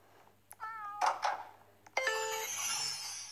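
A cat meows twice in the Roblox game Escape Grandma, short tonal cries with a brief ding between them, heard alone with no talking.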